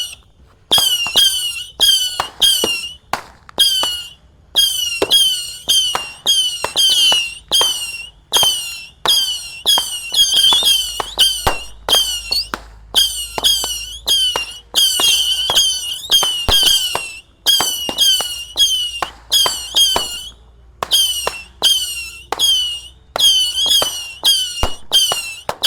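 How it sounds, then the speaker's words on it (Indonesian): Rapid volleys of shrieking, whistling roman candle shots fire one after another with popping bursts, loud and continuous for a long stretch with only brief gaps, on New Year's Eve. "Langsung saja kita nyalakan 100 shot mercon misil, guys."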